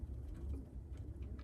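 Low, soft cooing from a late-bred racing pigeon cock in a loft, faint and close over a steady low background rumble.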